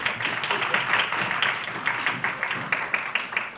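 Audience clapping at an occupational therapy program pinning ceremony, a steady patter of many hands, moderately distant and evenly sustained.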